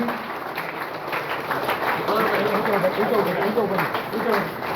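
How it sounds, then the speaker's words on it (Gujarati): Clapping from a crowd at an honouring ceremony during a spiritual discourse rolls on continuously, swelling midway, while someone speaks over it. "તાળીનો અવાજ"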